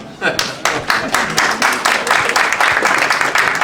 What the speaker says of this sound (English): Okay, have a round of applause for that.